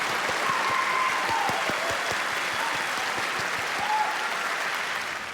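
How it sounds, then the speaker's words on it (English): Sustained applause from a large audience at ExileCon 2023, a gaming convention for Path of Exile, with dense steady clapping filling the hall at an even loudness throughout, faint whistles rising briefly above it. "Yeah, I'll clap that shit up."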